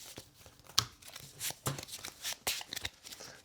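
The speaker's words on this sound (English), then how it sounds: "And next turn is your shuffling." A deck of cards shuffled during an Aeon's End Legacy board game session: faint, close, irregular riffling and crisp flicking bursts, with a few sharper snaps between softer rustles.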